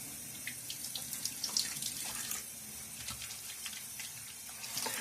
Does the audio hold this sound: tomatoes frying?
no